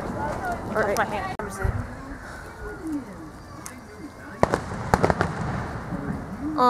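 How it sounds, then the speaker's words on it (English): Outdoor fireworks pop off in sharp cracks, mostly in a cluster near the end, over a steady crowd murmur and nearby voices talking. "Yeah, fireworks."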